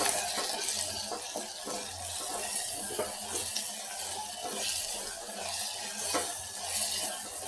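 Onion and tomato fry in a pan with curry leaves, stirred steadily throughout, a continuous close sizzle with repeated scraping strokes of the spoon.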